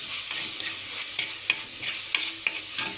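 Onion, green chili and curry leaves sauté in hot oil, a steady close sizzle broken by several sharp scraping stirs of a spoon against the pan, with no voices.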